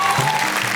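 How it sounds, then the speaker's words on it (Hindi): Brief burst of audience applause at a stage poetry show, a dense steady patter of many hands clapping. "टुक टुक ताली बजाओ"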